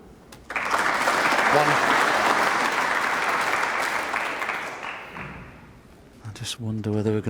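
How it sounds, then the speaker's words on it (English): Snooker audience applause at the 2011 UK Championship quarter-final between Judd Trump and Stephen Maguire, a loud burst of clapping that fades out, followed by a commentator talking. "Well, a round of applause"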